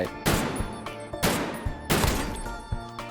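Gunfire in the video game Garry's Mod: three loud, close bursts of shots, each starting sharply and then trailing off, with a fourth smaller burst near the end.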